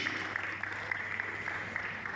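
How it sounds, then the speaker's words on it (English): Conference audience in Ogun State applauding the head of service after his speech, a steady patter of clapping from a hall crowd that stays moderate and even throughout. "let's give the number one civil servant a round of applause"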